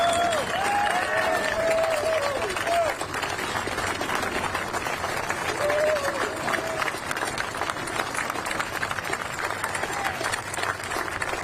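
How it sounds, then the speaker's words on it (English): A ceremonial audience for the 80th anniversary of V-J Day at the national World War II memorial applauds World War II veterans, a sustained wash of clapping from a crowd, with a brief high tone early on. "One more round of applause for all our World War II veterans."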